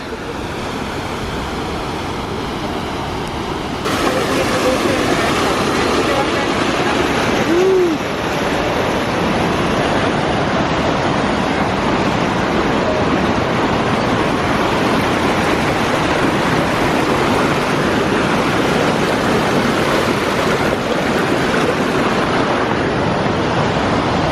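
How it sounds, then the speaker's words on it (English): A steady, full rushing roar of a waterfall in Blyde River Canyon, South Africa, constant and fairly close, growing louder after the first few seconds with a faint whistle-like tone briefly audible. "And the waterfalls have started"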